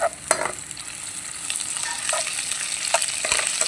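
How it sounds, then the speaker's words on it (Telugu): Ginger garlic paste sizzles in a hot pan with green chillies for restaurant-style chilli chicken. A continuous, close, bright frying hiss is broken by a few spoon scrapes and clinks, with no talk. "ఇప్పుడు అల్లం వెల్లుల్లి పేస్ట్ చిడికడి వేద్దాం"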